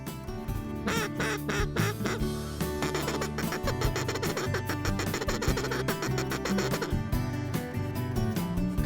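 A flock of ducks, with a single hen dropping in from the bunch as the rest circle, keeps up dense, continuous quacking and calling that stays loud and busy throughout.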